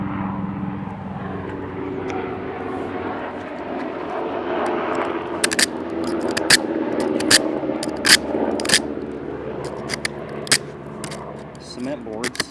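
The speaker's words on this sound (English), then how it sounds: "I have a helicopter coming by." A helicopter's rotor and engine drone passes overhead, steady and fairly loud, while a person talks and occasional sharp scraping clicks of cement backer board being scored punctuate the noise.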